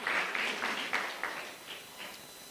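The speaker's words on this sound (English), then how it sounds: "Let's give a big round of applause to all the participants." Applause from the audience at a CBSE inter-school debate competition honoring the participants, a dense burst of clapping with rhythmic peaks that gradually fades over a couple of seconds.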